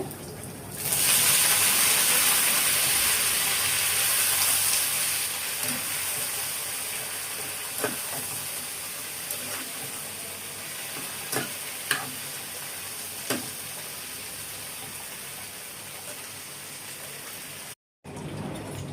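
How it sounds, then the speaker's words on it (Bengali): Water spinach (kalmi greens) fries in a pan with a steady, bright sizzle after an initial loud burst, punctuated by a few sharp utensil taps as it is stirred. "এই যে কলমি শাক পাকাইতেছি আজকে।"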